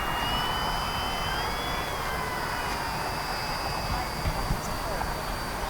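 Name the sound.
HSDJets Cessna 182 RC model plane flying in to land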